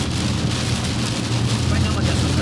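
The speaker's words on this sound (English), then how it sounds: "Of course, we're now in a downpour." Steady, dense hiss of heavy rain pouring down on a rural Pennsylvania road, a constant loud wash with a low rumble underneath, as if heard from inside a vehicle.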